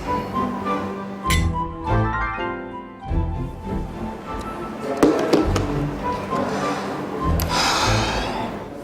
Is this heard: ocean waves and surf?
no